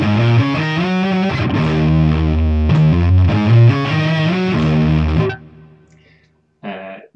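Electric guitar run through an Axe-Fx II big synth preset plays sustained thick, distorted synth-like chords and riffs, stops abruptly, then one short chord rings out.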